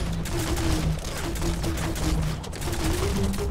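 Rapid spin-shot gunfire from a character's two guns in the action game Biomutant, a continuous rattling stream of shots over a rumbling combat backdrop.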